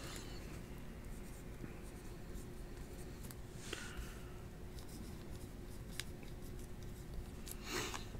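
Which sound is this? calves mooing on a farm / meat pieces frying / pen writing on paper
pen writing on paper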